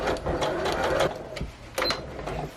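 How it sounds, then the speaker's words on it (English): Sewing machine running a gathering stitch on a doll dress, a steady close mechanical whir and rapid needle chatter throughout, with no voices. "we're going to sew a gathering stitch about 1/4 of an inch from the edge"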